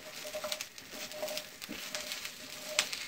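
Peppers charring directly on a stovetop burner crackle and sizzle steadily, with scattered sharp pops breaking through, one especially crisp near the end.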